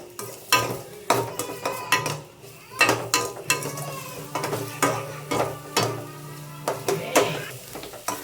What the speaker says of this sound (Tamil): அதுக்கப்புறம் நம்ம பொடிசாக கட் பண்ணி வச்சுருக்க வெங்காயம் அதையும் சேர்த்து நல்லா வதக்கிக்கலாம்.